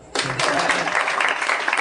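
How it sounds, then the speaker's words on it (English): Audience applause erupts suddenly at a live comedy podcast taping, loud dense clapping close by that holds steady after the burst. "Please applaud."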